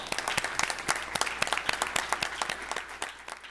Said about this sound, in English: So if you could please help me applaud them